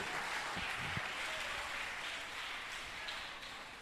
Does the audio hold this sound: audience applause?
yes